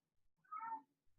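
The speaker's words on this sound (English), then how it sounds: "the meowing, I don't know if you can hear it" A single cat gives a clear, drawn-out meow, faint and somewhat distant, in an otherwise quiet room with no talk.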